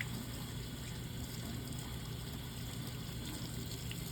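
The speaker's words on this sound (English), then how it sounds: "You're then going to rinse again with fingers pointing up, and you want to avoid touching the sink." Tap water runs steadily into a sink while hands are rinsed during hand hygiene and garbing, a constant close hiss and splash with no break and no voices.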